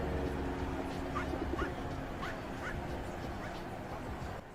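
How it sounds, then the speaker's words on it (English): A tiny dog in a video game gives several short, high yips and whimpers over a steady game soundtrack and background hum, faint and repeated in quick succession. "I would rather see that tiny little dog that just barked"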